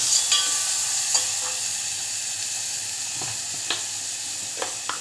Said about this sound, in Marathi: एका टोपामध्ये परतवत जातो कांदा लसूण थोडा लालसर